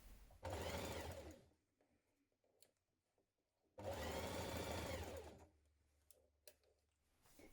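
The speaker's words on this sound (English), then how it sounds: "Then stitch in place with a 1 centimetre seam allowance." A sewing machine stitches a sweater cuff with a 1 cm seam allowance, running in two loud, steady whirring bursts of about a second each, separated by quiet handling noises and small clicks.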